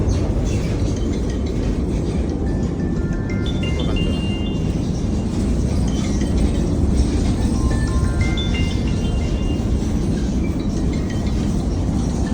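A steady, loud rumble of a car-carrying wagon on the Eurotunnel shuttle train rolling along, with faint squeaks and clicks over a constant mechanical drone.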